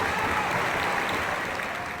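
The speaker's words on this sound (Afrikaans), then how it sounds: "Die daverende toejuiging vertel die hele storie." Thunderous applause from a festival audience on the opening night of the Hessequa Harmony festival, a dense, steady wash of clapping that stays loud and even throughout.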